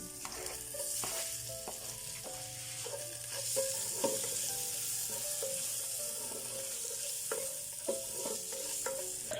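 Mushrooms fry with garlic and onion in a pan, giving a steady close sizzle broken by repeated spatula scrapes and taps on the pan, with no talking.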